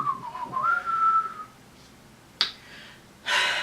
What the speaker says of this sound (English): Sonic tries to whistle